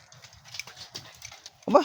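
A single short dog bark sounds near the end, preceded by faint rustling and soft background noise.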